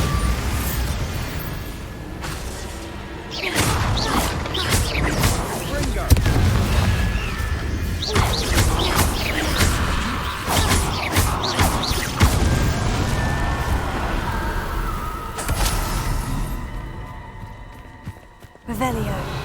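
Bombarda and Confringo spell explosions in Hogwarts Legacy, a run of loud booming blasts and crashes repeating over game music and effects, with a voice speaking throughout.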